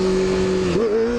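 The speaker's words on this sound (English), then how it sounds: "Alright, dropping into first gear. Whoa, that's engine braking for reals." A motorcycle dropped into first gear, its engine braking with a steady droning hum that dips and wavers briefly as the revs shift, loud and close with constant wind rush.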